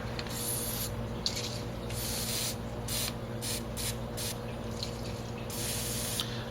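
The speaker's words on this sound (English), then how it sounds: "So we'll get a little bit more lube on here." Short hissing bursts of lubricant sprayed into a frozen lock outdoors, several close aerosol spurts of varying length over a steady low background hum, with no talking.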